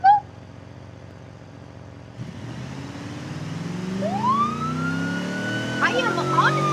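An ambulance siren in the BeamNG Drive driving game, starting after a brief click and wailing in rising, sweeping tones over a steady engine hum, loud and close throughout.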